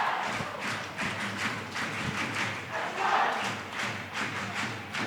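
Stadium crowd at a Philippines Azkals versus Tajikistan Asian Cup qualifier football match, a rolling roar of cheering and chanting in waves with thumping drumbeats, heard from a distance across the ground.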